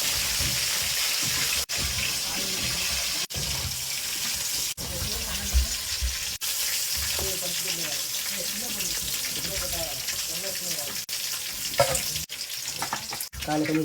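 Fish fries in hot oil aboard a fishing boat at sea with a steady, crackling sizzle, interrupted now and then by clicks and stirring sounds nearby.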